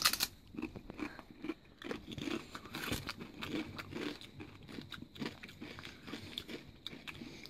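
Aldi cheddar cheese snacks crunch close to the mouth, in irregular crisp bites and chewing with some packet crinkle, quiet overall.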